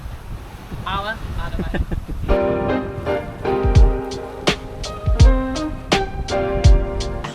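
Wind gusting across a sailboat at sea during stormy weather, a steady roaring rush under a voice speaking throughout.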